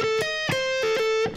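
Distorted electric guitar playing a short lead phrase from a solo, with a held high note broken by quick double-picked chugs, brief and moderately loud.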